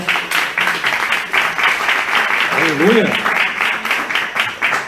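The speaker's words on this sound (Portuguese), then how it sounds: "por favor, uma salva de palmas para esses irmãos" A church congregation gives sustained applause for a couple at a worship service, dense steady clapping throughout, with a voice calling out briefly over it.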